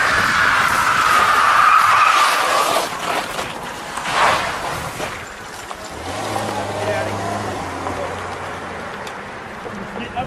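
A car skids around a street corner with a loud tire squeal and roaring engine that fades out, while people talk nearby and an engine hum lingers.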